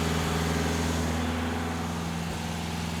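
The engine of a 1964 Triumph TR4 idles as it warms up, a steady, close, low rumbling hum that holds an even pitch throughout, with no one talking.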